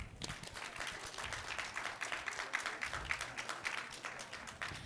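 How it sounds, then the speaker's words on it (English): An audience at a reading challenge quiz finale applauds the competing teams, a faint, steady patter of many hands clapping from a distance, sustained throughout. "A huge round of applause for all the teams."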